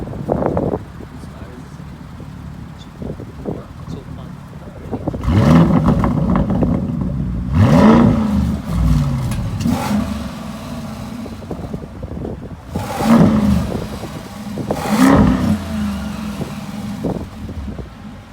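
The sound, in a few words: Lamborghini Urus Mansory exhaust revving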